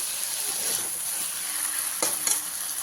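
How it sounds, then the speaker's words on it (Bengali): Vegetables for a red spinach (lal shak) bhaja fry in spice paste, with a close, continuous sizzle and stirring scrapes, plus two louder clatters near the end. "দু চামচ দিয়ে ভালো করে মিশিয়ে নেব ভালো করে সবজির সাথে মিশিয়ে নিয়েছি"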